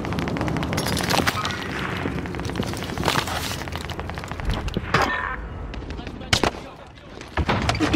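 Rapid gunfire and booming blasts from a shooter video game play loud and continuous throughout, with sharp shot transients at several points. Someone talks over the action.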